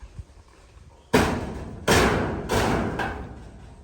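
Roof sheets being fixed during roofing work, with three or four loud, sharp thuds or hammer-like bangs spaced about a second apart, each ringing briefly after a quiet start.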